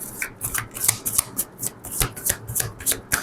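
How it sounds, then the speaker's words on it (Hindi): A deck of tarot cards shuffled by hand, a quick run of crisp riffling flutters and soft slaps repeating in a close, steady rhythm with no talking. "Let's see one last shuffle."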